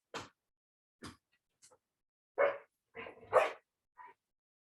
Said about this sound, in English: a barking dog outside